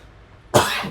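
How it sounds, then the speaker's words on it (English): A single sharp cough bursts out near the mic during a sports talk podcast, loud and brief after near silence. "Sorry, coughing."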